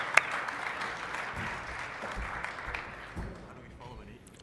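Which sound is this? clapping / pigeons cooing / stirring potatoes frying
clapping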